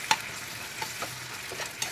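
Ginger garlic paste is stirred into an ivy gourd curry in a pan, giving a gentle ongoing sizzle broken by a few soft clicks and scrapes from a spoon.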